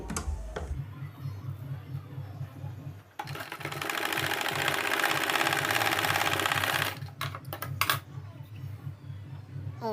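A sewing machine stitches a fabric loop for a neckline, its needle chattering in a rapid, steady rhythm for several seconds, with shorter bursts and a few clicks before and after.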